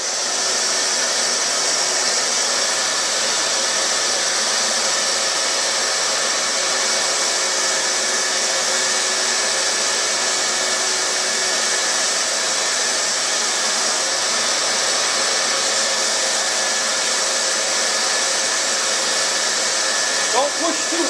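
A sander works a piece of redheart wood for a bandsaw box, making a continuous, loud whirring hiss that stays even and uninterrupted from start to finish.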